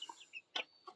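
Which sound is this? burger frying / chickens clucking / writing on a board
chickens clucking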